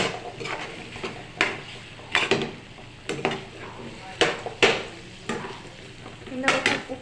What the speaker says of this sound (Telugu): టమాటాలు అలా మగ్గిపోయి తర్వాత ముక్కలు వేస్తున్నాను.